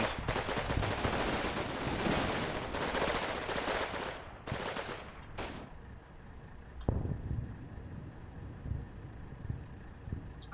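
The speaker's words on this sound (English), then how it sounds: "lot of bullets being thrown around" Combat Mission: Battle for Normandy battlefield: dense, loud rapid gunfire and machine-gun bursts pour out continuously for several seconds, then thin to a few scattered distant shots and pops over a quieter rumbling background.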